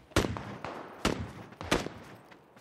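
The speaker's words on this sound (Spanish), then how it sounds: "Luego tiros acá cerca, ¿eh?" Gunshots fired nearby, four or five sharp cracks spaced irregularly over a few seconds, fairly faint, each with a short echoing tail and nobody talking.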